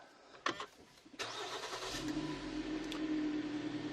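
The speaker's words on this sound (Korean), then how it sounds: "제가 먼저 일단 시동부터 걸어보도록 하겠습니다" A 2019 SUV's 2.4-litre gasoline engine cranks with a starter whir, catches, and settles into a steady idle hum, close by with no talking.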